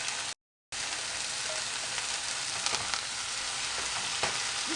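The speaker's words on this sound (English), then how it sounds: "I'm gonna put my spinach in." Frozen spinach hits a hot pan with garlic and fries with a dense, close, crackling sizzle, broken by a very short silent gap near the start, with light stirring taps and no voices.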